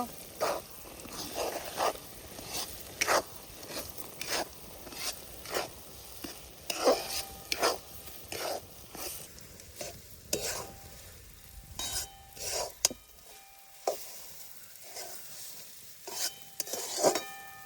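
Spatula scraping and stirring moong dal as it roasts dry in a pan, a steady run of rhythmic scrapes with a soft sizzle beneath, close and fairly loud, briefly dropping near the end.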